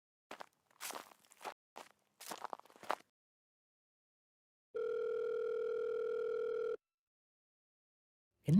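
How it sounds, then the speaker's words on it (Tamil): A telephone rings once in a long unbroken electronic tone and then stops unanswered, heard after a few scattered footsteps and rustles with silence between them. "என்ன இவன் ஃபோனே எடுக்க மாட்டான்?"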